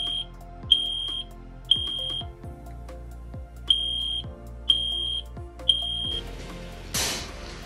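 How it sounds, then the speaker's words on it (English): Smoke detector alarm in an animated fire-suppression demonstration for an energy storage system room, sounding as repeated loud, shrill electronic beeps in an even rhythm over a low mechanical hum, followed by a hissing burst of discharge at the end. "The smoke detector triggers visual and audible alarms."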